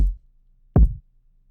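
Two punchy R&B kick drum one-shots played back in isolation, a deep booming thump at the start and another about three quarters of a second later, each decaying quickly into silence.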